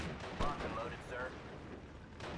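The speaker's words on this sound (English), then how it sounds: "We're getting some artillery fire on him now, which is good." Artillery fire in the WWII strategy game Steel Division: Normandy 44 during a hedgerow battle, heard as a dull boom with a rumbling barrage under a faint voice.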